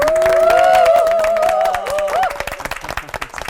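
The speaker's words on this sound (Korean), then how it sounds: "박수로 또 세 분 맞아주시고요." Studio audience applause welcoming three pastors on a Christian TV lecture show, clapping under sustained musical tones that fade into scattered individual claps toward the end.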